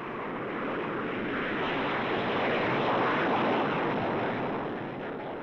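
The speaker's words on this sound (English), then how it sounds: "A United States F-15 climbs spectacularly from Ohakea's runway." A United States Air Force F-15 fighter jet climbs away from the runway at Ohakea air base, a loud, steady broadband jet roar holding strong throughout with no voices.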